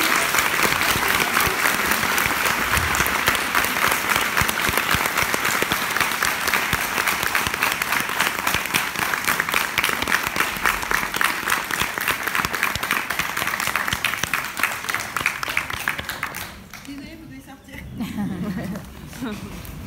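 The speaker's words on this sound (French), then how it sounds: "Je vous demande d'applaudir Julie." At Comic Con Paris, a crowd gives Julie Benz long, loud applause, a continuous wash of clapping near and far that drops away late, when talk and laughter come through.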